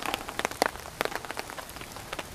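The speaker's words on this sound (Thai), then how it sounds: "สายฝนก็โปรยปลายมาเรื่อยๆ" Rain falling steadily outdoors on a rainy night, scattered close drops tapping and pattering irregularly on surfaces over a soft constant hiss.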